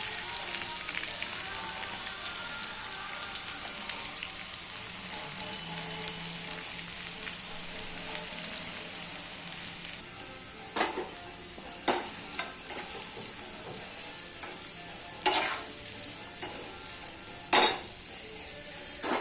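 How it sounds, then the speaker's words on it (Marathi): Chopped onion fries in a pan over a gas flame until brown, giving a quiet, steady sizzle broken by sharp clacks of a spoon stirring against the pan toward the end. "चांगला ब्राऊन कलर होईपर्यंत फ्राय करून घ्यायचं आहे"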